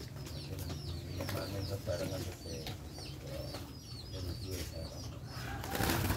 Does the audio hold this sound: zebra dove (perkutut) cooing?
yes